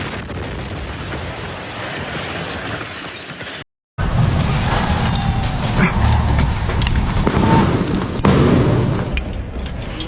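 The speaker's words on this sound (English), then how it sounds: "a resident was recording a video message when one of the airstrikes hit" An airstrike hits during a days-long siege in Ukraine: after a brief dropout, a sudden loud, close blast erupts, followed by sustained crashing and rumbling debris noise to the end.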